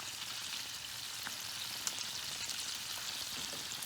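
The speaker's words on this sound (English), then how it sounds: "I cut up the tentacles and I added them to the oil, and with the parsley and the cut up capers and olives" Calamari tentacles frying in oil with parsley, capers and olives, a soft, even crackle and hiss that holds steady throughout at low volume.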